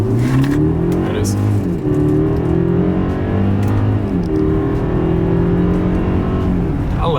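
A 2026 Mercedes-Benz GLE 350 SUV in sport driving mode with manual shifting accelerates hard from inside the cabin, its engine note climbing steadily through smooth gear changes, loud and continuous throughout.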